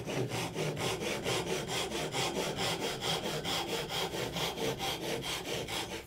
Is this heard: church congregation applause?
no